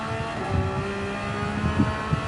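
Engine revving at high pitch in the Gran Turismo 7 video game, a race car's whine rising and holding steadily, loud and close with a slight wavering tone.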